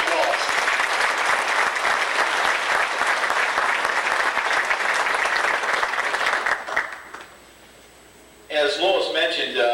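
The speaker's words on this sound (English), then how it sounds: "Ladies and gentlemen, big round of applause once again for Mike Wallace." A banquet audience honoring Mike Wallace bursts into loud, sustained applause for about seven seconds, then fades to near quiet before a voice begins speaking over the room.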